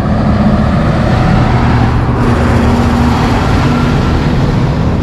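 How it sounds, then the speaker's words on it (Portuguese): A truck passes on a road in Dubai, its loud, steady engine roar blending with dense traffic noise that fills the whole stretch without a break. "Esperando o caminhão passar"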